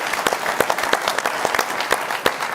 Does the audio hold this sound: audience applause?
yes